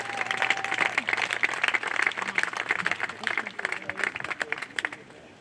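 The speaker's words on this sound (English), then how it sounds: "But another round of applause." Applause from the audience at an Eagle Scout court of honor ceremony, a steady patter of many hands clapping that fills the room, with some voices mixed in.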